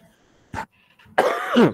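Close, loud coughing and throat clearing from an adult during an Indonesian Quran recitation lesson: a short harsh burst, then after a pause a longer rasping cough that trails off.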